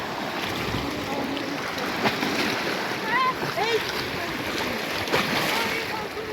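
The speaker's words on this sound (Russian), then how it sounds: "захлестывает волна." Waves wash over a spit on Issyk-Kul lake with a constant rushing surge and splashing, mixed with wind noise and a faint voice in the background.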